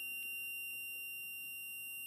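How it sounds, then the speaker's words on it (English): Small ignition timing buzzer on a two-stroke engine setup, giving a continuous thin high-pitched electronic buzz, steady and fairly close with no talking. "Now I'm going to hook up my little buzzer, the orange wire. Hear it start to buzz."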